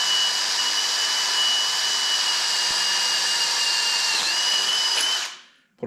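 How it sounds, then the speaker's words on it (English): Power drill bores steadily through existing holes for a quarter-inch bolt, a loud continuous whine holding for about five seconds before spinning down and stopping. "I'm just gonna drill those so they go through"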